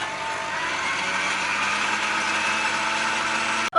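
An electric mixer on a low setting whirs steadily through dairy-free, gluten-free carrot cake batter, a constant close motor hum with no talk that cuts off abruptly at the end.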